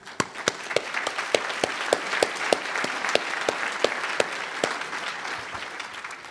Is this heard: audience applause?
yes